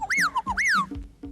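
A bird at a zoo mimics a whippoorwill, giving two clear, looping whistled phrases in quick succession, close and fairly loud, with a low murmur of voices underneath.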